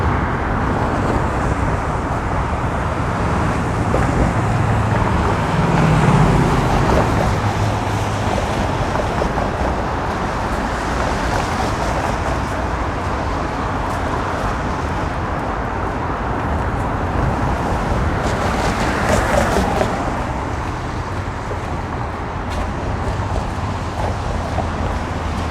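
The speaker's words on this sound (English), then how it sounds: "There's the DVP. Traffic moving well southbound." Snow-covered Don Valley Parkway traffic in Toronto in winter, heard as a steady, broad roadway roar of vehicles continuing for the whole stretch without pause, fairly loud and even, with wind-like hiss over the top and no voices.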